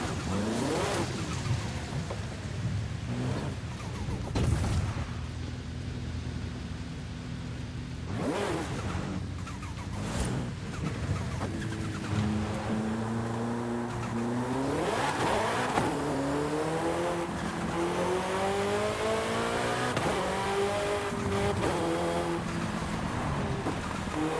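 Race cars in a desert racing video game rev and accelerate steadily, engine pitch rising and falling through gear changes, with occasional tire noise over a continuous loud drone and no talking.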